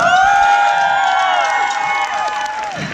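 At a live concert in Nagykáta, the audience applauds and cheers loudly with sustained crowd noise, and ringing tones carry over it before it gradually fades.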